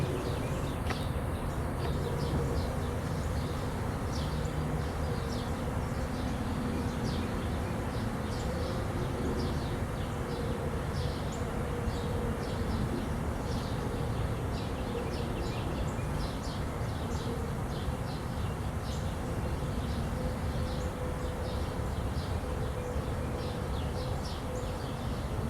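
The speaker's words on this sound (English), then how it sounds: "I'm standing in the middle of all these bees flying around" A honey bee swarm fills the air with a dense, continuous buzzing drone from many bees flying all around, steady and fairly loud, with faint bird calls and outdoor sounds in the background.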